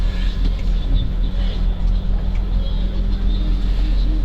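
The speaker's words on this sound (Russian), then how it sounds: "Как плавно едет этот автобус." A retro bus at a truck, bus and tractor show drives smoothly, its engine a steady low rumble close by with no people talking.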